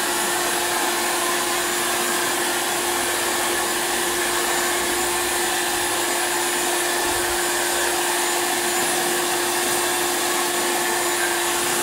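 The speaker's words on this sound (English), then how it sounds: "get all the wrinkles out of the bag with the dryer" A hair dryer blows steadily and loudly at close range onto a plastic bag, a constant whooshing roar with a fixed motor whine, no voices.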